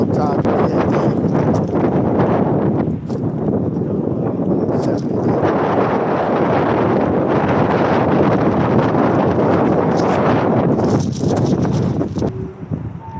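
Steady, loud wind buffets an outdoor microphone at a street gathering in Garner, North Carolina, with continuous broadband rumble throughout and a voice talking underneath.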